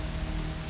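Heavy rain pours down steadily, a dense continuous hiss of drops on surfaces filling the whole moment with no voices.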